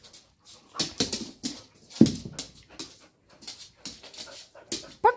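A dog whines, pants and gives short yips in bursts spread across the clip, fairly close and quiet, with no talking.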